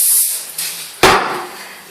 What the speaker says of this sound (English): Just give it a little spray at the back,